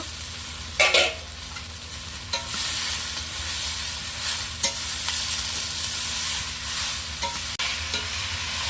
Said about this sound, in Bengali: ভেন্ডি আলু বেশ ভালোভাবে একটু ভেজে নিয়েছি